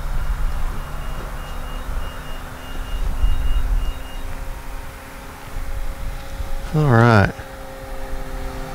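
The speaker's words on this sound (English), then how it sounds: "Don't know what that beeping was. I think a battery's done charging." A battery charger for a radio-controlled E-flite EC-1500 plane sounds a short burst of warbling electronic beeps that ends a charge, rising clearly over a steady low background hum.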